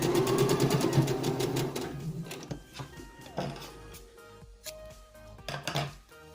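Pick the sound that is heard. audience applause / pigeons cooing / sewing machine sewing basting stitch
sewing machine sewing basting stitch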